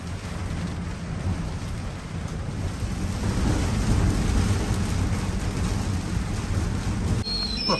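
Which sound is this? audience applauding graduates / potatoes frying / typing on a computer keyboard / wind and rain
wind and rain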